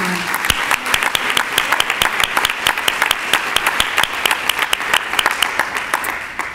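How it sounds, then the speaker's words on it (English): An audience applauds award-winning school programs at an education excellence awards event, sustained loud clapping from a crowd with individual sharp claps standing out close by. "Please, one more round of applause for the great work that you're"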